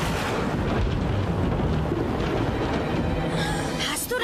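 Thunder from lightning striking a tree in a Fireman Sam episode, a long, loud, continuous rumbling roar that holds steady and then tails off slightly at the end.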